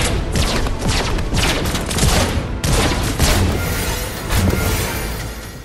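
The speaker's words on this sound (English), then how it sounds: "I caught a mate shooting over here." Gunfire in the video game Fortnite, a loud, dense barrage of rapid overlapping shots and bursts that fills the whole stretch, with one brief lull midway before firing resumes.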